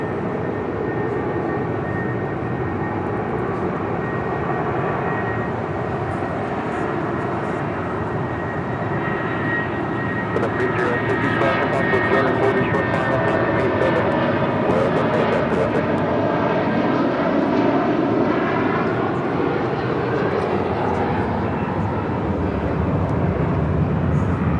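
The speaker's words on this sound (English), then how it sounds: "This is United Airlines 2609 taking off to Boston on a 757-200." A United Airlines Boeing 757-200 jet takes off, a loud, sustained engine roar that holds steady and swells slightly throughout, with no talk.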